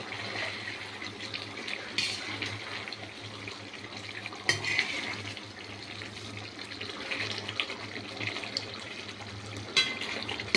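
Spiced pointed gourd curry being stirred in a pan makes a steady, soft sizzling hiss with faint scraping and an occasional louder tap, under a low background hum and without voices.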